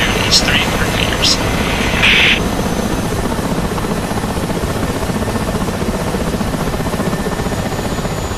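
Helicopter rotors drone steadily and loudly throughout a flight in the combat simulator DCS, a continuous broadband roar with brief radio-like chirps early on.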